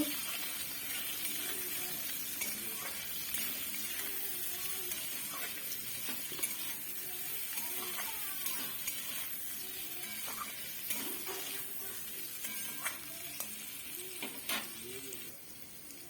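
Fish curry with potatoes and turmeric sizzles in a pan while being stirred, a continuous frying hiss broken by scraping and clinks of a spatula against the pan.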